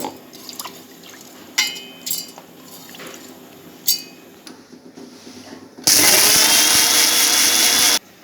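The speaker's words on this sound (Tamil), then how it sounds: "அந்த பச்சரிசியை நம்ம ஒரு மிக்ஸி ஜாரில் போட்டு நல்லா அரைச்சிக்கலாம்." Light clinks and drips at first, then a loud, harsh whirring grind from a mixer grinder blade grinding soaked raw rice that runs for about two seconds and cuts off abruptly.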